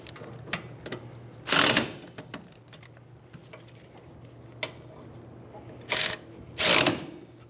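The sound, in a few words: ratchet driving caliper bracket bolts on Toyota Camry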